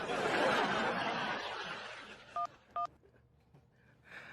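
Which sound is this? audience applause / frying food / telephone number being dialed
telephone number being dialed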